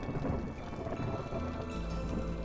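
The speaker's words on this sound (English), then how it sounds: "I do hear the storm rolling in" Rain and rumbling thunder from a storm in the settlement-building video game Against the Storm, a steady dense wash with low rolling rumble throughout, moderately loud and continuous.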